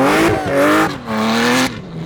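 A supercharged Porsche runs at full throttle in third gear while sliding on a frozen lake. The engine roars loud and close with a rising, wavering pitch, surging twice before the throttle eases.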